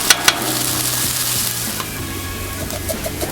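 Food crisping on a Blackstone griddle with canola oil for a steak and eggs breakfast, a loud steady sizzle with a couple of sharp spatula clacks near the start, no talk.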